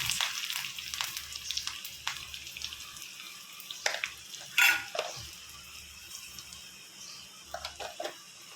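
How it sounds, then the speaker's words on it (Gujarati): Garlic, curry leaves, mustard seeds and cumin are tempered in hot oil on a home stove for dhokla, a soft steady sizzle broken by sharper crackling pops and clinks. "આપણે તેલ મૂકી દીધું છે સરસ મજાનો લસણથી લીમડાથી ને બધેથી રાઈ ને જીરું બધું નાખીને વઘાર કરવાનો છે"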